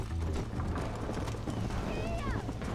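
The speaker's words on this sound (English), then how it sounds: "This is a good horse." A horse galloping in the Red Dead Redemption video game, steady rapid hoofbeats loud and close throughout, with someone talking over it and a faint whinny-like cry near the end.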